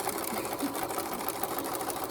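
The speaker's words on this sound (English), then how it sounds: "you're in control of the speed of the sewing machine, so I can go slower and have more control" A sewing machine stitches fabric around corners and curves with a fast, steady mechanical whir and rapid needle ticking, close and continuous.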